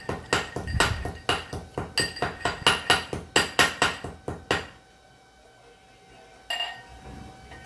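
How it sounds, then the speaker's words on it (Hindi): Ginger being pounded in a mortar and pestle: a rapid run of about fifteen sharp, ringing strikes, then quiet with a faint background hum and one last clink near the end. "अभी मैं ये अदरक को कूट रही हूँ"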